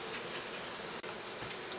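Honeybees buzzing around a hive frame being cleared during queen rearing, a dense steady hum that stays even and faint throughout, with one brief dropout partway.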